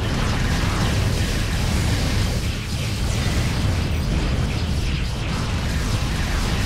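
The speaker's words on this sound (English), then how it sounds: "Somebody's shooting at me." Continuous weapons fire from a Jem'hadar recon ship in Star Trek Online space combat, a dense roaring wash of blasts and bursts at steady high volume with no letup, no voices.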